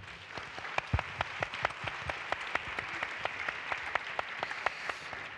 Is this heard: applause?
yes